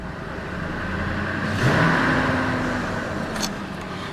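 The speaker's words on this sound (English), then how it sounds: "I don't want to rev her too hard while it's cold" A 2000 Ford F150 4x4 with a cold 5.4L Triton V8 gives a single moderate rev that rises and falls back to idle over a steady hum, heard from nearby with no talking.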